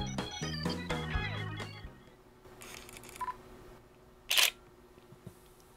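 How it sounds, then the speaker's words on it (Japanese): Shutter clicks from a Nikon D5200 DSLR camera, a few sharp mechanical snaps with a louder burst near the end, following some musical tones at the start. "今聞きました、シャッターを。"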